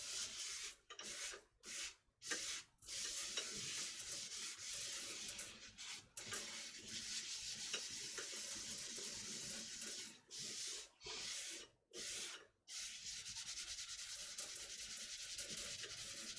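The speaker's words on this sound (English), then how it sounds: "So, a bit of Yorkie grit. If in doubt, Yorkie grit it." Wood spinning on a lathe is worked with Yorkie Grit abrasive paste, giving a continuous hissing rub broken by several brief pauses as the abrasive is lifted and reapplied, close and fairly quiet with no talking.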